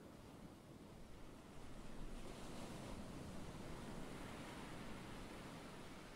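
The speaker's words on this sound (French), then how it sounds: "Le vent est toujours là." Quiet, steady wind ambience for a guided visualization, a soft continuous broadband rush like distant surf that swells slightly midway, with no voices.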